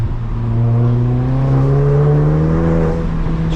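A Stage 3 VW Golf GTI tuned to 492 PS accelerates hard from inside the car, its engine note climbing steadily in pitch with a loud, continuous drone and no talking.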